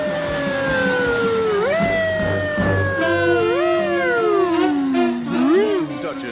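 A voice imitates a wailing siren in a cartoon, rising and falling in several long sweeping glides over background music and noise.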